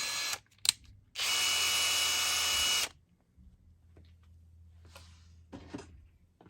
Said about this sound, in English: I've got a 2 millimeter drill bit that I'm going to use to drill out the last hole on the servo arm